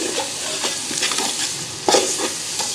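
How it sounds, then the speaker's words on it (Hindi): Tomato masala for beef pulao fries in a pan with a loud, continuous close sizzle, while a spoon stirs it with a few scraping strokes, including a heavier scrape near the end. "तब तक भूनेंगे जब तक ये टमाटर के छिलके जो हैं लैदा ना हो जाएं।"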